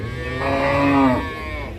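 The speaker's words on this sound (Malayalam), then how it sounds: "ഇതൊക്കെ പശുവാണ് കേട്ടോ ഇറങ്ങണത്" A single cow moos loudly and close by at a cattle market in Manapparai, a long low call rising and falling over a steady background hum.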